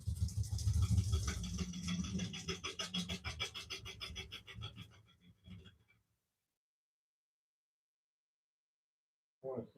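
Cork bark is turned off a wooden bowl blank on a lathe, a close rasping, rattling scrape with rapid chatter that fades out midway, then silence and a brief final scrape.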